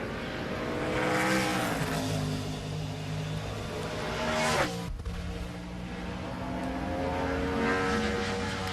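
A NASCAR Sprint Cup race car at speed on the Loudon oval during qualifying, its engine roaring steadily and loud with a brief sharp swell as it passes close, then droning on as it continues round the track.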